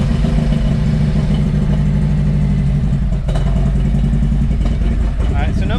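Loud 2017 Harley-Davidson Road Glide Ultra engine starting close by with a rough, throbbing low rumble, a brief clatter partway through as the revs shift.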